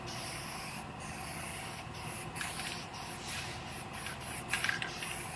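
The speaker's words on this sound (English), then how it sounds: "Now I'm gonna put one more coat of guide coat over all the primed area" Guide coat sprayed over primed areas of a car body in short bursts, a steady airy hiss broken by several quick puffs of spray, close and fairly quiet with no talk.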